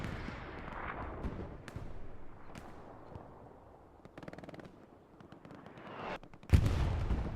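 Artillery fire in a video game: rattling bursts of gunfire and rumbling impacts come and go, then a loud, heavy blast lands near the end, with no voices.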